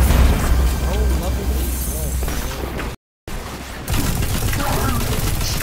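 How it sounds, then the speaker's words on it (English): A shotgun fires in Destiny 2 on PC, a Warlock's weapon, giving heavy booming blasts amid other game effects, with someone talking over the gunfire and a brief cut to silence midway. "Yeah, I love that shotgun. It sounds so, so nice."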